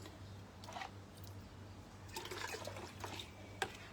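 Vegetable plants on a sixth-floor balcony garden are watered, with faint splashes and trickles coming in short, quiet bursts and a final drip, with no talk.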